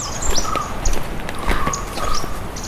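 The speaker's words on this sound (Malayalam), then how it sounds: "ഇപ്പോൾ ശ്രദ്ധിച്ച് നോക്കിയാൽ സംസാരിക്കാതിരിക്കുമ്പോൾ തന്നെ പല കിളികളുടെയൊക്കെ സൗണ്ട് കേൾക്കാം" Several small birds chirp and call in a forest near Soochipara waterfall in Wayanad, with short bright calls repeating over a steady rushing background.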